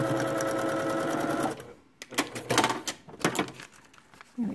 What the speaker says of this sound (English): sew that seam